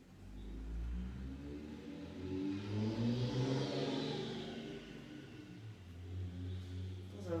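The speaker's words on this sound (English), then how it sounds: "There's a very loud car." A loud car passes outside with an engine note that rises and falls as it revs by, clear but somewhat distant, in an otherwise quiet room.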